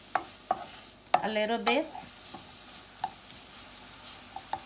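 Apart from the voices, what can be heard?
onion cooking in coconut oil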